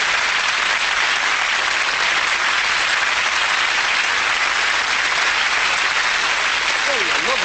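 A magic show audience breaks into loud, steady applause after a trick that produces a lemon, a dense unbroken roar of clapping that fills the whole stretch, with a brief voice surfacing near the end.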